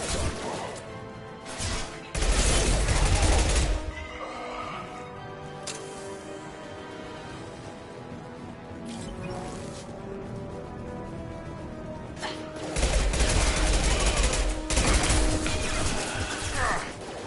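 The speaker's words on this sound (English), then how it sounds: "firing an impact shot!" Bursts of heavy impact-shot gunfire in Mass Effect 2, two loud crashing volleys separated by a stretch of quieter battle noise and ticking mechanical sounds.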